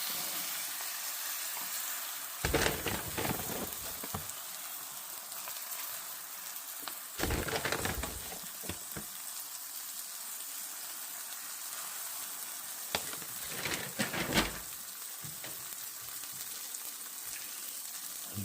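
Corn and flour tortillas layered with cheese sizzle steadily in a hot pan, a continuous close frying hiss broken by a few louder bursts of scraping and shifting.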